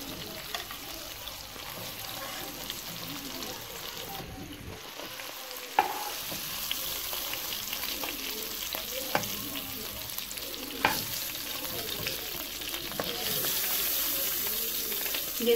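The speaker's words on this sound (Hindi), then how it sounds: "अब हम बाकी जो हमारा चिकन रह गया था अब हम वो ऐड करेंगे और वो फ्राई करेंगे" Chicken tikka frying in a pan, a continuous soft sizzle with occasional clicks of stirring and scraping, steady and moderately close throughout.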